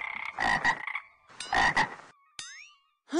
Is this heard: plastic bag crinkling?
no